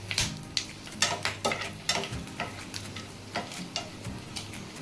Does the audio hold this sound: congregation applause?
no